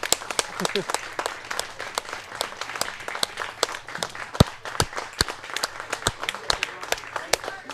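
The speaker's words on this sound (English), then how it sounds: "We're still applauding" A small group claps in a room during the finals of a 2022 cherry blossom competition. Sharp, separate claps repeat steadily and close by over a murmur of voices.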